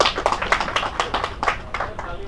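An audience claps at an Aam Aadmi Party press conference, with quick, moderate hand claps running under a man's speech throughout.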